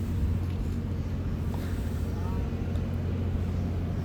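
Cars being discharged from a ro-ro vessel at a port in Sudan make a steady, heavy, low rumble of engines and machinery that stays constant throughout.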